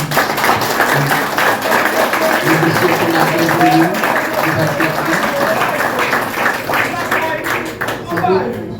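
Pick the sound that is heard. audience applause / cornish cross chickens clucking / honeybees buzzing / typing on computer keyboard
audience applause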